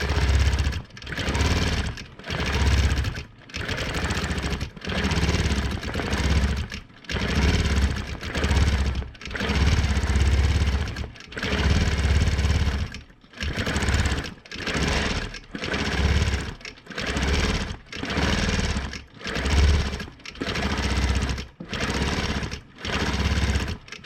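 A sewing machine quilts a wavy line pattern of roof tiles, running in loud, steady bursts with short pauses between stitching runs, alone without talk.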